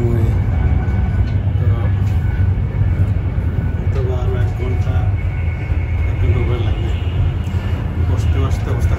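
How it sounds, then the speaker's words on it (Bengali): A fast passenger train on the Windermere to London Euston run makes a loud, continuous rumble with rattling and clatter, steady throughout with no break. "Train very fast."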